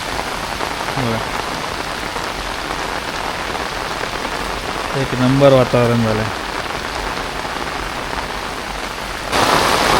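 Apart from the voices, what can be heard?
heavy evening rain in Konkan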